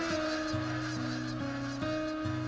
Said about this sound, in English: the wild geese high in the clean blue air are heading home again